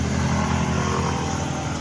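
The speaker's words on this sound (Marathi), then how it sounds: "आतां ही टू व्हिलर तेजी कितें तें पळया" A two-wheeler rides over a potholed road in Goa, its engine a steady, loud drone that continues throughout without pause.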